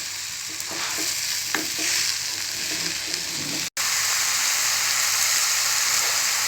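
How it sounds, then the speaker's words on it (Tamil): Mushrooms being mixed with masala in a frying pan sizzle loudly and continuously, with repeated scraping strokes from a spatula, a brief cut in the sound midway, and no voices. "இதை நல்லா இப்போ மிக்ஸ் பண்ணி விட்டுக்கலாம்."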